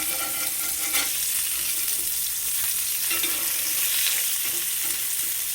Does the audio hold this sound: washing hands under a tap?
no